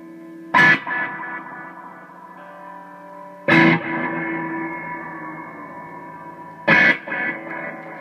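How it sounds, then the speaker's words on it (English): Three sharp guitar strikes ring out through an effects unit on its cave reverb setting, each trailing into a long, cavernous reverb tail that hangs and slowly fades between hits. "I mainly always have it on like the cave setting because it sounds really nice and gives me a pretty decent reverb"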